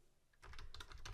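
Quick bursts of keystrokes on a computer keyboard as a PowerShell command is entered, a soft close run of clicks starting after a brief quiet moment.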